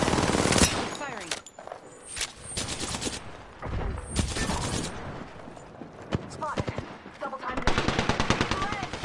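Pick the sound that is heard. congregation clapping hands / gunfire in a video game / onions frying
gunfire in a video game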